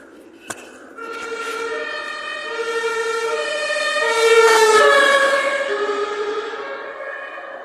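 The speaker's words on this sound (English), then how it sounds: "And there goes 2 fire brigade ambulances on the way." Emergency sirens of two fire brigade ambulances wail continuously in Berlin, rising and falling in pitch as the vehicles pass fairly close, louder in the middle and then easing away.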